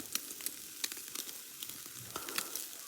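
Steady crackling sizzle of steaks frying over an open fire, with faint irregular pops and spits, close by and fairly quiet, no talking.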